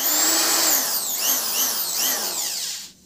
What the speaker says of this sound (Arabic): اخر حاجة بعد 20 هو يشتغل شنيور اللي هو ده.